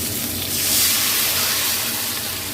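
Water poured into a hot pan of tempered spices and cauliflower, giving a loud, steady steaming hiss and sizzle that swells and then holds, heard up close with no talking.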